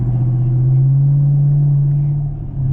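Chevrolet Camaro 2SS V8 engine rumbling steadily in traffic, a deep, loud, continuous idle drone close by, with a slight dip near the end and no talking.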